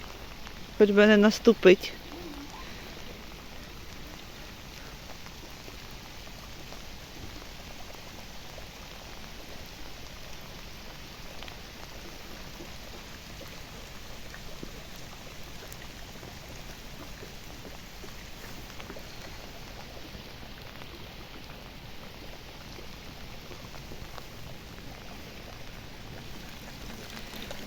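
Gentle rain patters steadily on a rural homestead, a soft even hiss that runs on alone after a short burst of a voice near the start.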